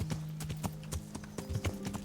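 Horse hooves clip-clop in a steady trotting rhythm in the medieval video game Kingdom Come: Deliverance, close and clear over a low tonal drone.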